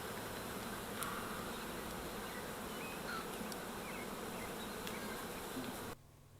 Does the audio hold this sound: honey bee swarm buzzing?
yes